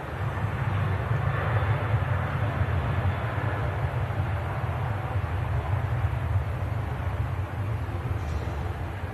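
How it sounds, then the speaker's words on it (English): Steady low roar of a Ryanair Boeing 737 NG touching down at Manchester Airport, heard from a distance as a sustained rumbling engine and rollout noise with no speech. "And as that aircraft touches down, Ryanair NG aircraft."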